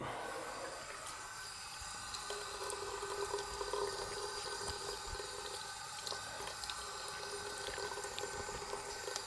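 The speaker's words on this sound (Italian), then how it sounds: "Ho diminuito l'apertura del rubinetto." A bathroom tap runs steadily at a low, narrowed flow during wet shaving, a continuous soft hiss and trickle with faint clinks and no talking.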